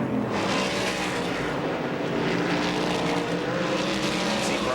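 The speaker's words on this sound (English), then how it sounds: "Gordon goes by on the high side, 3 wide down the straightaway" Sprint cars racing three wide at Indianapolis Raceway Park, a loud, continuous engine roar from a pack passing down the straightaway, sustained and near throughout.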